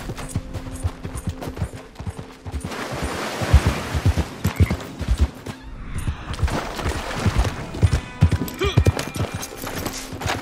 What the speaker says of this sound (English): the one that I'm riding right now is the Norfolk Roadster